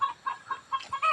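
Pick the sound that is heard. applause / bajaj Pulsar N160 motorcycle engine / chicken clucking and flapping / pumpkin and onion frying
chicken clucking and flapping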